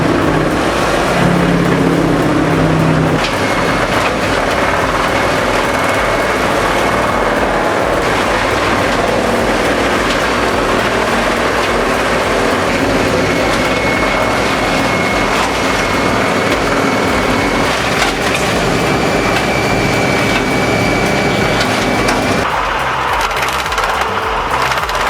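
Large industrial wood chipper and tree shredder grinding up wood, giving a loud, continuous roaring crunch with splintering bursts and shifting engine load throughout, with no voices.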